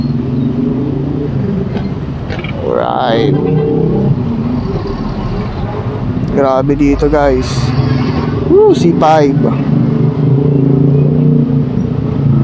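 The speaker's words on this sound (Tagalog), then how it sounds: "Traffic, traffic, traffic talaga." Busy road traffic with motorcycles and cars heard from an electric vehicle running on a 72V 80Ah lithium-ion battery, a constant close engine rumble with passing revs and horn-like tones, while someone talks throughout.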